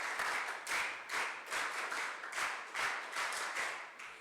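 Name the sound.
audience clapping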